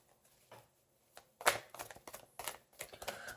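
Tarot cards being shuffled make soft, intermittent riffling snaps and papery flicks, quiet and close, coming in short irregular bursts.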